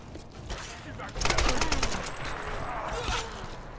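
Rapid rifle gunfire in the shantytown stage of Tomb Raider (2013), a burst of loud close shots and clattering echoes peaking midway, with another short volley near the end over game ambience.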